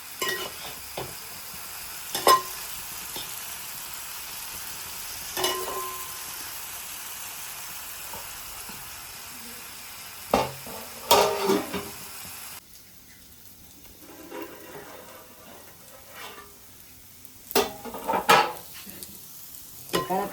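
Chicken pieces for a coconut-milk chicken curry fry in a pan, a steady low sizzle broken by several sharp scraping stirs at irregular intervals, close and moderately loud, with no talking.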